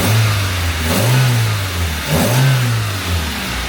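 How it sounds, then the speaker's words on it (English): Proton Satria GTi engine just fitted with a coil-on-plug conversion, revved twice close up: two quick throttle blips rising and falling over a steady idle, loud and without speech. "Give it a little bit of a rev."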